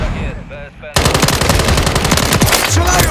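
Loud, close automatic gunfire in the Call of Duty Modern Warfare 3 video game bursts in abruptly after a brief voice and rattles on in a fast, continuous stream of shots, with a faint voice underneath near the end.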